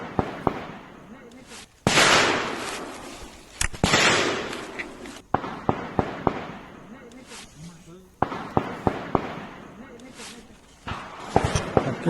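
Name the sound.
gunfire during a forest encounter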